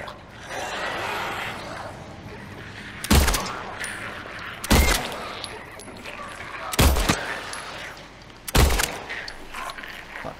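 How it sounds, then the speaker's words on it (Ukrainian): Gunshots ring out in the Silent Hill 2 Remake video game, four sharp, loud bursts spaced a couple of seconds apart over a murky game ambience, with a voice faintly present in between. "Там два набої вистріляли."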